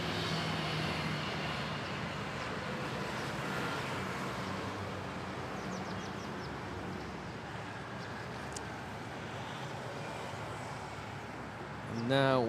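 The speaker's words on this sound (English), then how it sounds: "Now we have a Philippine Airlines A330 arriving from Ho Chi Minh City, Vietnam." A Philippine Airlines A330 airliner arriving at Manila Airport produces a broad, steady jet roar that holds at an even, fairly loud level throughout, with a brief louder swell near the end.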